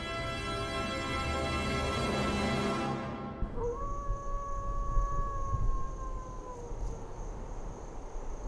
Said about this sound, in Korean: 하울링은 늑대들의 소통 방법.